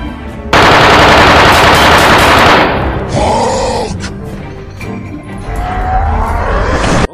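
Gunfire from a pistol in a video game about finding and cleaning animals, with a loud dense burst of rapid shots at the start, then quieter game sounds and effects afterward.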